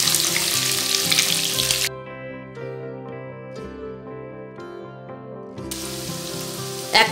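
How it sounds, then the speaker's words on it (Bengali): Chopped garlic and onion hit hot oil for restaurant-style egg fried rice, with a loud hiss at the start that drops away and then surges back near the end, while tuneful background music plays throughout. "তেলটা গরম হয়ে গেছে, প্রথমে দিচ্ছি রসুন কুচো, এর সাথেই দিচ্ছি পেঁয়াজ কুচো"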